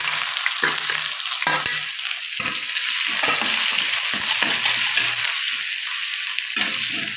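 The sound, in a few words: chopped onion frying and being stirred in a pan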